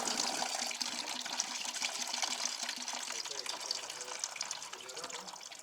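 Old antifreeze drains from a coolant hose pulled off the electric pump outlet of a Honda VT700 motorcycle, a steady close trickle and splash of liquid. A voice speaks over it at times.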